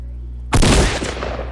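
A single loud, close shotgun blast in Fortnite cuts in sharply after a steady low hum, then decays into a short ringing tail.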